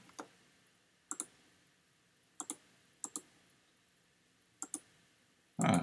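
A computer mouse clicking, sharp close clicks in quick pairs spaced about a second apart, quiet and isolated, followed by a brief louder rustle at the end.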